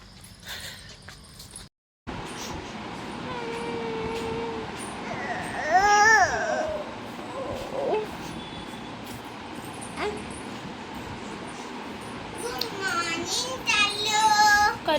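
A young child cries out during a family walk outdoors while on vacation, with wavering wails rising in the middle and again near the end, set against steady outdoor background noise.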